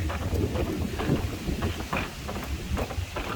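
Gusty wind buffets the microphone outdoors in the aftermath of Hurricane Nicole, a steady, loud low rumble with surging bursts throughout and no speech.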